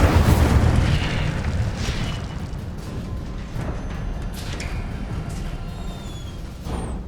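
An Incendio fire spell cast in Hogwarts Legacy produces a loud, deep booming burst that gives way to a crackling, rushing roar which slowly fades, with faint high whistling tones near the end and no speech.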